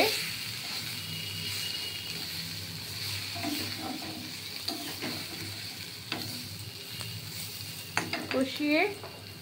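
Oil, spices and potatoes stirred and sautéed in a pan for a Bengali pomfret jhal, with steady sizzling and scattered spatula scrapes and clinks building to a few louder knocks near the end.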